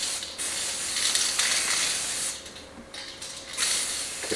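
An upside-down spray paint can being sprayed to clear its nozzle during a courtyard renovation: a loud, close, continuous hiss in several bursts with brief dips between them.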